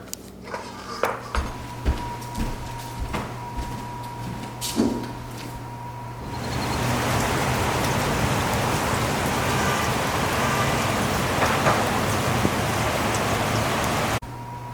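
Rain falls outdoors at night, first as scattered drips and taps with a low hum, then as a dense, steady downpour hissing across surfaces for the rest of the clip.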